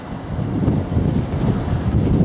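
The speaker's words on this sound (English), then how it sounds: "as you can probably hear, I'm down in a windy Essex" Steady wind in Kelvedon, Essex buffets the microphone, a low rumbling roar with gusty swells that never lets up.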